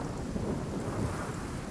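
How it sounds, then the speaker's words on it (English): Hail attack spell from the video game Divinity: Original Sin, a steady dense rumble of pelting ice like a heavy storm, with a constant rushing roar and no distinct individual hits. "Yep, we can do another hail attack."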